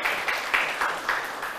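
Students in a Thai primary-school math class clap for a classmate who answered correctly, a brief, soft patter of many small hands with a few louder bursts in the room.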